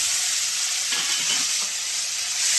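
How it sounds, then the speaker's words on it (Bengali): Tomato dropped into hot oil sizzles loudly with a steady, dense crackle throughout, with brief bursts of stirring and spattering in the middle. "এই যে দেখুন আগে টমেটোটা তেলের মধ্যে দিয়ে দিচ্ছি"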